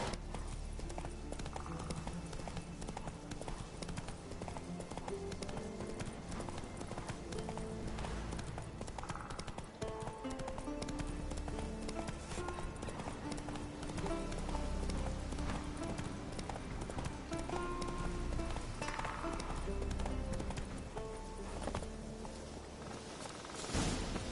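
Roach, a horse in The Witcher 3, gallops with continuous rhythmic hoofbeats that stay close and loud throughout, mixed with dense game background sound.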